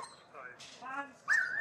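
A police dog shut inside a truck lets out excited yelps and high whines up close, the cries rising sharply and loudest near the end.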